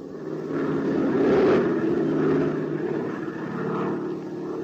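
A propeller airplane in flight drones as a steady, loud engine hum that swells and eases slightly, like a radio drama sound effect heard alone.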